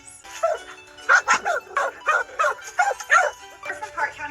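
Dog barks and yips at a Park County Animal Shelter, a quick series of about eight short, fairly close bursts coming in a steady rhythm with brief gaps, with no talk over them.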